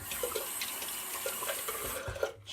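Water sloshes and drips softly as a shaving brush is rinsed in a sink, with light splashes and faint clicks at close range.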